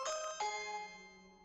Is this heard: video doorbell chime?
yes